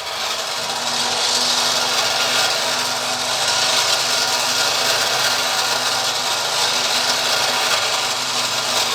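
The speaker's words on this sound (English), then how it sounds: "Okay, winch going hot." An off-road recovery winch reels in its cable in a steady, continuous mechanical grind with a faint hum, loud and close throughout with no talking.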